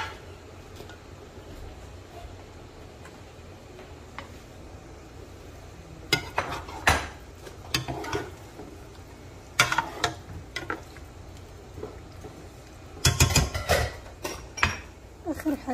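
Teriyaki chicken is stirred through thick sauce in a pan, with scattered clanks and scrapes of a utensil against metal in bursts over a low background hiss, no voices.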